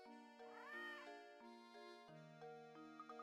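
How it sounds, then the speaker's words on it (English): A cartoon cat meows once with a rising and falling cry in the Professor Layton and the Curious Village video game, heard over steady, tuneful game background music. "There's the cat."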